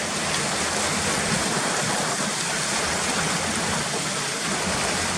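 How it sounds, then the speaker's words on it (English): A channel of water runs down from the hills and under a road, rushing in a steady, loud, unbroken roar with no pauses. "this is where the channel of water's coming down, look."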